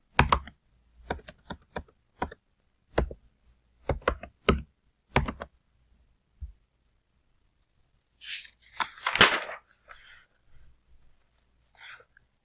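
Computer keyboard typing in bursts of quick clicks while class, roll number and marks are entered into table cells, fairly close and alone, ending with a few softer rustling sounds.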